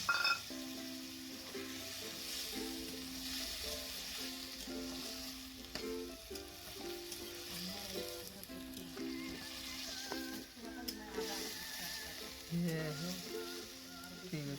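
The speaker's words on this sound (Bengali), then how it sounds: "এবারে মশলা বাটা জলটা দিয়ে দিলাম" Masala sizzling in a pan as ground-spice water is poured in for a paneer curry, with a continuous frying hiss under faint tonal beeping background music, moderately quiet throughout.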